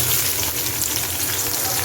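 Chopped onions fry in hot oil with cumin and dried chilies for beef nehari, making a dense, continuous, close sizzle that stays steady through a brief moment with no voices.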